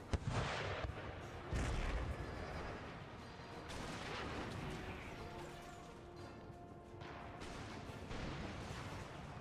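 Musket volleys and artillery fire on militia in the Empire Total War battle game, a dense continuous barrage of overlapping booms and crackling shots with several loud bursts rising above the din.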